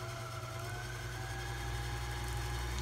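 A Brother Boutique 751 sewing machine runs steadily while winding its bobbin, producing a soft, continuous motor hum with a faint rising whine and no pauses.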